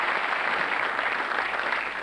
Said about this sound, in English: take with you this great round of applause